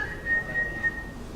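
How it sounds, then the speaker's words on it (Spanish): A person whistles a few short, clear notes with small breaks between them, soft and close against quiet background hum. "Yo me acuerdo cuando estaba chiquito, todavía no lo logro hacer, chiflar."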